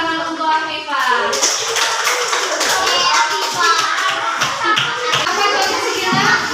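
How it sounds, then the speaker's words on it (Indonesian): Children in a combined-grade classroom clap their hands together for a classmate. The clapping is bright and fairly close, with children's voices chattering over it, and it starts after a brief pause. "beri tepuk tangan untuk Afifah"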